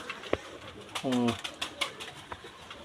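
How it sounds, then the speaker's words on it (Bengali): Pigeons in a home loft, including a male with an injured leg, give a few distinct coos and short calls, one clear drawn-out coo in the middle, with light clicks and rustles nearby. "আমার একটা কাস্তুরি মেল কবুতর আপনি দেখতে পাচ্ছেন"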